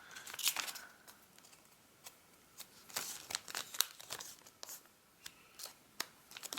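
Origami paper crinkles and rustles softly as a folded fish base is creased in half for a paper chick, with scattered light crackles and taps, quiet and close.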